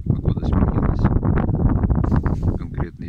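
Strong wind with snow squalls buffets the microphone on a frozen lake, Lake Kubenskoye, in a constant, loud roaring rumble with gusty surges throughout.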